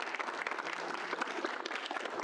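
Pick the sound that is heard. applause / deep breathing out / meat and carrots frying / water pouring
applause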